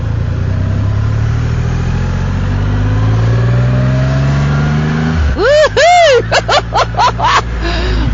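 A Triumph Rocket motorcycle pulling away from a dealer in the Vauxhall Arches, its engine note rising steadily through the revs, then someone talks over the running bike.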